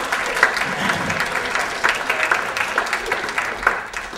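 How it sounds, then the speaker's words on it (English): Steady audience applause for a staff member at a university science center event, a dense even patter of many hands clapping close by for about four seconds with no talking. "So give Mrs. Hartman a big round of applause."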